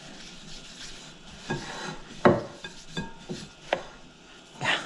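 A spatula scrapes and taps through crumbly lemon bar crust ingredients in a bowl, a soft gritty rasp punctuated by several louder knocks against the bowl at irregular intervals, close by.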